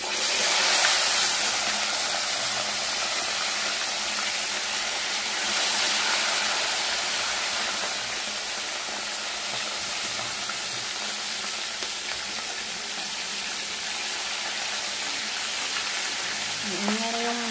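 Pork pieces fry in deep hot cooking oil in a home kitchen, a continuous dense sizzle and hiss that stays steady and close for the whole stretch, with a brief higher tone near the end.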